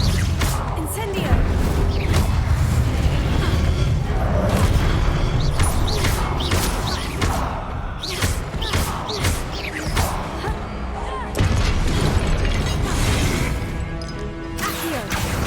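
Incendio fire spell cast during combat in Hogwarts Legacy, heard as a dense run of loud crashing, thumping magical impacts and bursts that continue without a break, with a voice speaking at times among them.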